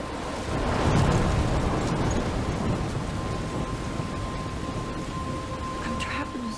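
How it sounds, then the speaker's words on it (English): A thunderstorm in the video game Life is Strange: a deep rumble of thunder swells early and then fades into a steady wash of heavy rain, loud and continuous, with no voices. "I'm trapped in a storm?"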